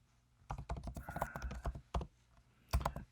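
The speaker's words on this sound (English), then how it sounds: "So we're just gonna type that in." Keys clatter in quick bursts on a computer keyboard as a headline is typed, close and fairly quiet, with short pauses between runs of keystrokes.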